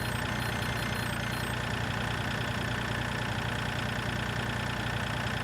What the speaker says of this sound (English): The tractor engine speeds up with the speed of the tractor